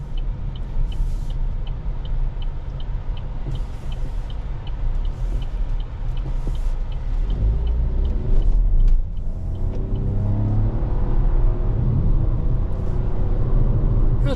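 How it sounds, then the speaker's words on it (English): A 2024 Chevrolet Trax 1LT slows under braking and then accelerates, a steady road and engine hum rising into a louder, rougher surge in the second half, heard from inside the car. "we're going to do a brake test and acceleration test"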